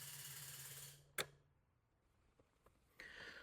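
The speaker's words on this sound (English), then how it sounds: "hopefully you can hear the solenoids firing through" Nitrous solenoids on a Ford Fairmont click on and off: one sharp loud click, then a few fainter ticks and a brief hiss that follows a steady mechanical hum cutting out.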